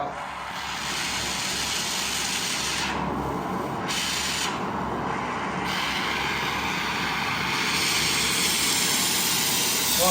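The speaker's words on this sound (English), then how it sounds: "we can wind the flame up now because we've got the oxygen in there" An oxy-fuel gas torch turned up with oxygen added gives a steady, close, continuous roaring hiss that holds evenly throughout with no talking.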